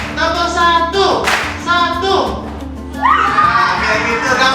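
A group of children in an animal welfare and rabies outreach session claps together in a counting exercise, sharp single claps separated by pauses, with a prominent adult voice speaking and kids' voices around it.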